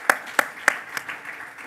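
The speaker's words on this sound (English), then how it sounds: "a big round of applause, please, for the guests here" A few distinct, close hand claps from guests at a global-challenges event ring out in slow succession, then thin into faint scattered clapping.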